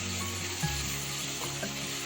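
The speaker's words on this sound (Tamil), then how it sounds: "தேவையான அளவு உப்பு சேர்த்து நல்லா வெங்காயத்தை ஒரு 2 நிமிஷம் நல்லா வதக்கி விடலாம்" Chopped onions fry with salt in a pan for banana-flower biryani. A steady, close sizzle holds throughout, with faint stirring scrapes and no talking.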